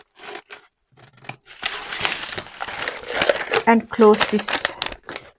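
Scissors snip along a marked line through quilting fabric for basic quilt blocks, giving a run of close crisp cuts and crinkles while a person talks over them.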